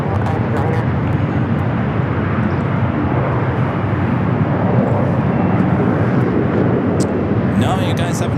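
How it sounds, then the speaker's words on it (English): An Alaska Horizon E-Jet airliner arriving from SFO at LAX on the north side produces a loud, sustained jet roar, a steady broadband rush lasting throughout as the aircraft comes in close. "Next arrival here on the north side is Alaska Horizon Flight 2111 coming in from SFO and E-Jet."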